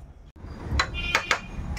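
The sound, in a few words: lid placed on cooking pot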